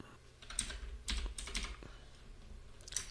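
Quick bursts of typing on a computer keyboard while entering Java code, close, crisp clicks in uneven clusters with brief gaps, no voices.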